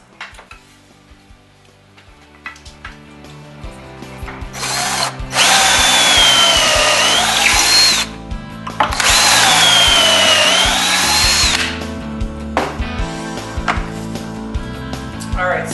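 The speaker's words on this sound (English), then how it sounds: "I got all my pocket holes drilled" A power drill boring pocket holes into wooden divider boards for a DIY headboard, two long loud whining drill runs with motor pitch sweeping, separated by a short pause, amid workshop clatter.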